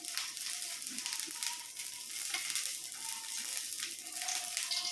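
Garlic frying in oil for a sambar tempering gives a steady, bright sizzle that holds evenly throughout at moderate level, with no voices.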